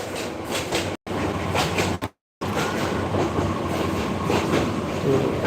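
Inside a carriage of the Bijoy Express passenger train bound for Jamalpur, a loud, continuous rumble with rhythmic clickety-clack from the wheels. The sound cuts out briefly twice, and no voices are heard.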